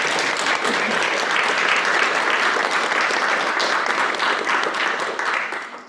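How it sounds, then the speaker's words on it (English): A conference audience gives loud, sustained applause at a spring summit, dense clapping filling the room and tapering off near the end. "why don't we give a big round of applause"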